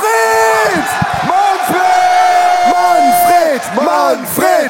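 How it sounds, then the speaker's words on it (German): A crowd at a darts event, the Darts Creator Cup 2025, shouts and cheers with loud, overlapping whooping voices that swell and dip in bursts for the whole stretch. "Applaus für Manfred!"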